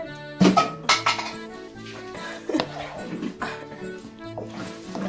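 A mackerel tin is shaken and rinsed out with water, producing loud metallic clanks and rattling clinks in quick bursts, then a lighter jostling of metal.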